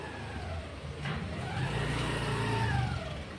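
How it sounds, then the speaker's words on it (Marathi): A learner driver parking a personal car: a medium engine idling and revving gently as the car creeps forward, rising slightly in the middle and easing off near the end, steady and fairly close with no talk. "आता हे त्यांची गाडी पार्क करतायत."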